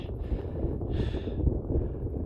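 Wind gusting across an exposed mountain ridgeline on Wheeler Peak in New Mexico, a steady low roar that swells and eases close to the microphone, heard alone with no talking.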